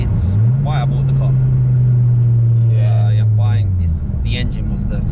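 A Stage 3 Ford Focus ST's five-cylinder engine drones at a steady low pitch from inside the car, its note swelling slightly and then easing off, while people talk over it.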